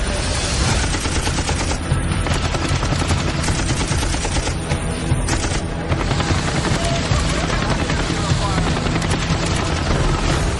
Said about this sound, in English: we just got permission to put a couple across the bow there